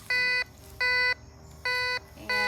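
A Ricomax GC-1037 metal detector gives four short electronic target tones at an even pace, each a bright, steady beep ringing between a pull tab and a nickel, with quiet gaps between.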